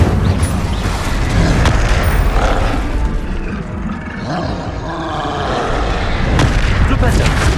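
An Incendio fire spell cast in Hogwarts Legacy bursts out as a loud, roaring whoosh of flame that swells and rumbles over several seconds amid other game noise.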